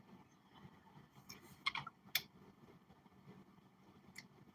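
Tarot cards are shuffled quietly, with soft rustling and a few sharper flicks and clicks standing out against a faint room background.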